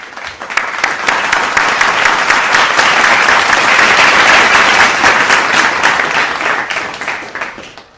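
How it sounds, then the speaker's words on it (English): A large audience at a corporate advertising industry event breaks into a loud, sustained round of applause, dense clapping that holds steady for several seconds before gradually fading. "I'd like everyone to please give a better round of applause, a bigger round of applause."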